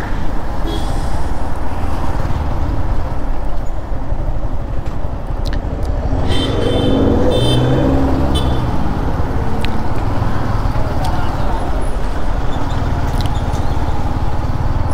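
A motorcycle riding through city traffic with a helmet-mounted camera, continuous low road and engine rumble mixed with wind buffeting and passing traffic, with scattered clicks and taps close by.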